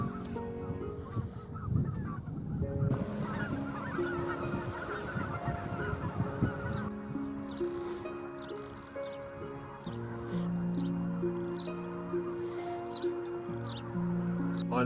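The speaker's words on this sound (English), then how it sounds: "we found this flock of migrating white-fronted geese in a flooded farm pond" A flock of migrating white-fronted geese on a flooded farm pond in Nebraska honks continuously, many overlapping nasal calls at a moderate distance over a faint background of splashing and rustle.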